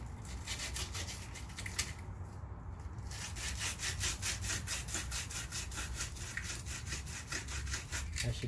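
Sandpaper rubs rapidly back and forth on a car battery terminal in a Toyota FJ Cruiser, giving a quiet, rhythmic rasping scrub with a short pause, close up and with no talk.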